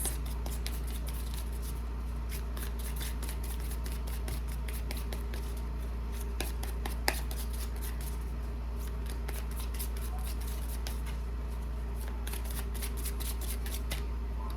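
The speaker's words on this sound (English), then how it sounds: "I'm going to go ahead and pull two of the Animal Spirit Oracle cards to close this." Animal Spirit Oracle cards being shuffled and pulled during a tarot reading, giving a steady run of soft papery ticks and riffles with one sharper snap midway, no voices.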